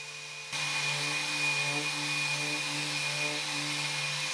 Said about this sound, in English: I went ahead and sanded all of that back to raw wood.